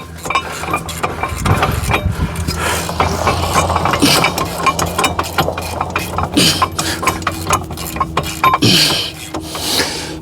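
A hand ratchet clicks repeatedly while the brake caliper bolts are tightened on a 2017 Ford Fusion. Metallic clatter from the tool and bolts comes through up close in irregular bursts.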